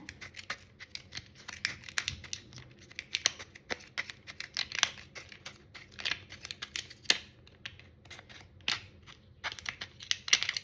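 A Nespresso Vertuo coffee capsule is cut apart, producing a close, steady series of sharp, crisp snips and crinkling clicks of thin metal, repeated rhythmically throughout with no talking.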